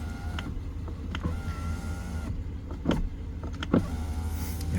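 Power window motor on a RAM 1500 pickup running with a weak, recharging battery, a steady low whir moving the glass up for several seconds, with a couple of short clunks and faint background noise, no talk.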